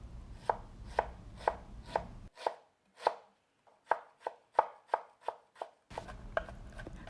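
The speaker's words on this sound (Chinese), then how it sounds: "再来切一些姜丝" A knife chops ginger into thin shreds on a cutting board, a steady run of sharp, close taps, briefly pausing partway before the rapid cutting resumes.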